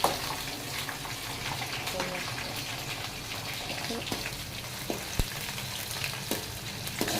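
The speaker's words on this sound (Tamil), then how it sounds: "நல்லா வதங்கட்டும் நல்லா வதங்கட்டும் பூண்டு நல்லா வேகட்டும்" Garlic sautés in hot oil for a Kerala-style fish pickle, a steady close sizzle with occasional spoon scrapes and stirring clicks, and a voice talks over it at times.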